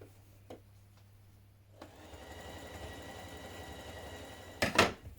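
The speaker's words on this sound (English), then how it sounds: "Sew down the long edge of your band here, matching your notches." A sewing machine stitches the long edge of a band on a McCall's 7518 onesie, starting after a few faint clicks and running as a quiet, steady hum, then ending with a brief louder clatter.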